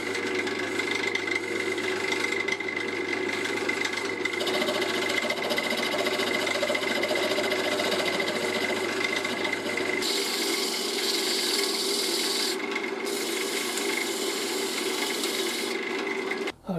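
A wooden piece spins on a woodturning lathe while its end is trimmed, a steady whirring hum with scraping tool contact that turns brighter and harsher partway through.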